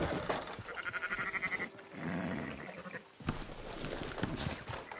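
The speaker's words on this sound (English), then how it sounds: "Fine sheep." Sheep bleating in a PS4 video game: several wavering bleats close together in the first half, then a brief pause and a busier stretch of game ambience and clatter.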